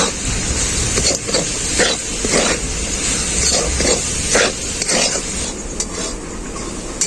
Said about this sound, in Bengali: মশলার সাথে আলুটাকে আমি খুব ভালো করে ভেজে নেব